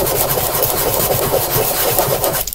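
Sandpaper rubs rapidly back and forth inside a circular cutout on a wooden snack container, a loud, steady, rhythmic scratching heard up close with no talking.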